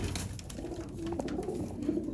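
Sialkoti pigeons coo close by, low soft rolling calls repeating through a faint background hum.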